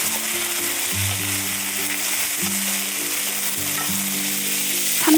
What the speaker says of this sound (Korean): 간장을 넣고 볶아주세요.